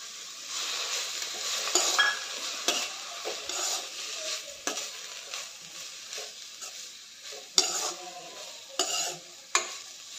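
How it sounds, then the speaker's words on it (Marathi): Rice grains roasting with grated carrot in a pan for carrot kheer, a steady close sizzle under repeated scraping stirs and occasional sharp metal knocks of a spoon against the pan. "तर हे तांदूळ या गाजराबरोबर भाजून घ्यायचं आहे."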